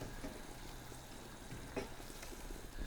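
Prawns cook gently in a pan with melting Boursin cheese, giving a soft, low sizzle with a few faint stirring touches, quiet and close with no talking.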